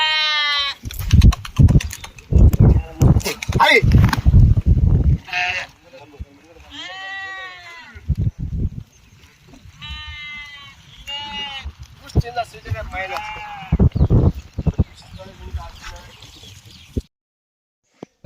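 A flock of sheep bleats close by with loud, overlapping wavering cries, following a burst of heavy rustling and knocking at the start and fading to silence at the end.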